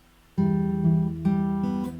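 Fingerstyle acoustic guitar plucks a Final Fantasy X piece at full speed, with bass and treble notes together and new notes struck about every second and a half, ringing clearly and close with no voices.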